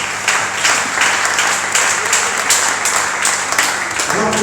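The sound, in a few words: church congregation applauding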